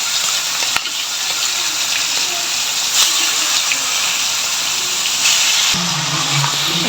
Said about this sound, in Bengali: আমি তেলে ভেজে নিচ্ছি। এই পাশে আমার কড়াইয়ে তেল গরম হয়ে গেছে, আমি একটা একটা করে দিয়ে দিচ্ছি।